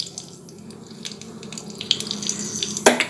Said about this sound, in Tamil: கடுகு உளுந்த பருப்பு பொரிஞ்சிடுச்சுங்க